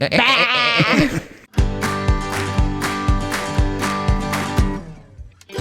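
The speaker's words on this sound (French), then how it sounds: "Là, tout d'un coup, une chèvre qui pop en dessous de la tente." A goat bleats under a tent in Mongolia, giving one wavering, quavering cry up close. Rhythmic music with steady beats then takes over.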